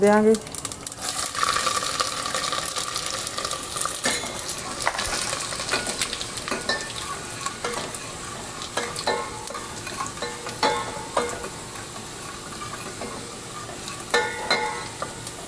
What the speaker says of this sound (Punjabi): ਤੇਲ ਆਪਣਾ ਗਰਮ ਹੋ ਗਿਆ ਹੁਣ ਆਪਾਂ ਇਹ ਚ ਪਾ ਦੇਾਂਗੇ ਜੀਰਾ